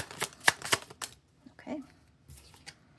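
Tarot cards shuffled by hand in a few quick, crisp riffling bursts with short pauses between, close and fairly loud, with faint soft handling sounds in between.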